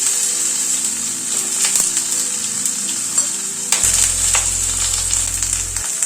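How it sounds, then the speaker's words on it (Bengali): Eggplant fries in hot oil for a bitter gourd chorchori with fenugreek and asafoetida, a loud, dense, continuous sizzle close by, with occasional sharper spits and a low hum entering near the end. "এই তেলে প্রথমে বেগুনটাকে একটু ভেজে নিচ্ছি।"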